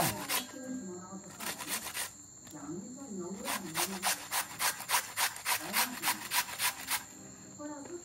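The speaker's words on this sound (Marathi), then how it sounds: "तर ते आता पहिल्या किसून घेणार आणि मग त्याच्यामध्ये गूळ टाकून ते शिजवून घेणार थोडंसं." A large cucumber (tavas) is grated by hand in a village kitchen, giving bursts of rhythmic rasping strokes in quick runs with brief pauses, close and fairly loud, while voices talk in between.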